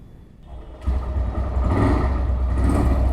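A motorcycle engine at a bike shop starts with a sudden rumbling catch, then keeps running at a steady, loud idle close by.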